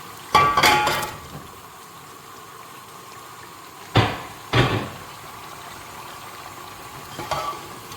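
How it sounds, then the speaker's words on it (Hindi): Chicken added to fried masala in a pan for palak chicken, heard as a few distinct clanks and knocks of metal cookware, one near the start and two close together midway, over faint steady sizzling. "अब आप इसमें ये चिकन डाल दो"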